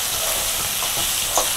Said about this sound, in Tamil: இதை நல்லா இந்த எண்ணெயிலே வதக்கிடலாம்